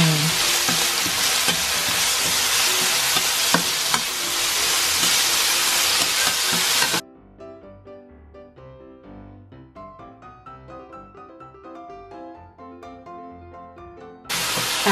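Onions fry in a pan for a fish sarciado, a loud dense sizzle that cuts off sharply midway to a quieter clatter and crackle, then bursts back to full sizzle at the end.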